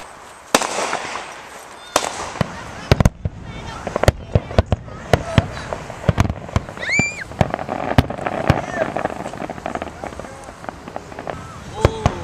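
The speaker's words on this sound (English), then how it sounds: "I'm watching fireworks." Rapid crackling fireworks popping repeatedly at varying distances around Washington, D.C., a dense irregular barrage of sharp bangs with occasional whistles, continuing throughout.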